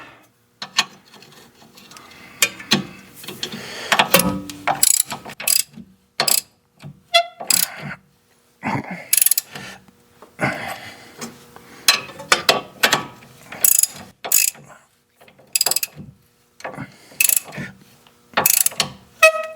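A ratchet wrench tightens a nut on the steering knuckle of a 2006 Toyota Matrix, with close, loud bursts of rapid clicking in uneven strokes separated by short pauses.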